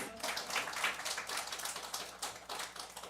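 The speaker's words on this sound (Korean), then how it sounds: "이럴 땐 박수 한번 하는 거예요." A congregation claps during a Korean Friday overnight church worship service, making quiet, rapid, scattered hand claps that merge into soft applause and continue for a few seconds.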